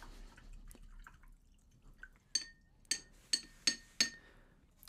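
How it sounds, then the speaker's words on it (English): Clean water fetched in a glass jar while painting a small robin in watercolour, with a run of five bright, close drips and glassy clinks after softer handling noises, quiet with no talking. "And then what I'll do is I'll get some clean water."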